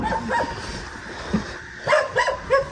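A dog outdoors on a picnic outing barks and yips in short bursts at mid distance, a few early calls and then a quick cluster of barks near the end.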